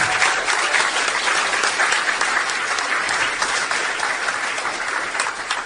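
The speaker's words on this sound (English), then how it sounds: "everybody give Brian a round of applause" A live audience at a Comic-Con talk breaks into loud, sustained applause, a thick wash of clapping that slowly tapers off.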